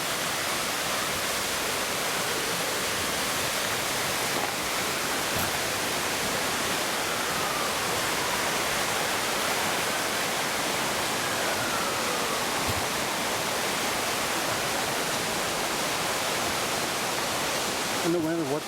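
Minnehaha Creek near Minnehaha Falls rushes in a dense, constant roar of flowing water, loud and unbroken from start to finish.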